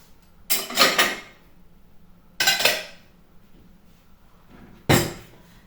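Dishes and cutlery are handled in three separate bursts of clattering and clinking, close and fairly loud, with quiet pauses between them.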